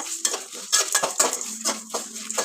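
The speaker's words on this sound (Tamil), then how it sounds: "அதையும் போட்டு இதில் நல்லா வணக்கிடுங்க." About six chillies are stirred and sautéed in oil in a pan for Chettinad mutton gravy, with repeated close scraping strokes of a metal spoon over a soft sizzle.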